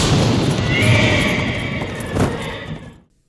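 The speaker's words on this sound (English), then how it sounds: "Suddenly a horse is heard charging through the woods." A horse neighs loudly and charges through dark woods in a Sleepy Hollow film scene, with a long whinny over rumbling hoofbeats and a dull thud before the sound cuts off.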